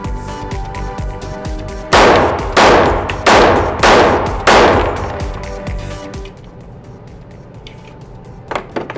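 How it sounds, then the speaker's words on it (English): Five loud, evenly spaced shots from a Springfield Range Officer 1911 .45 pistol boom close by at an outdoor range, each with a short decaying echo, followed by quieter clinks and handling sounds. "We just finished shooting the Springfield Range Officer"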